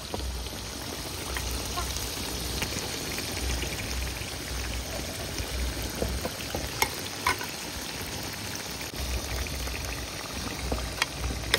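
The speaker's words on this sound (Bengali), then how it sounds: "এবার আমরা ভাজা মাংসগুলো দিয়ে কষিয়ে নেব।" Fried chicken pieces being sautéed in a wok for chicken biryani, a continuous close sizzle and crackle with scattered scraping stirs and small clinks throughout.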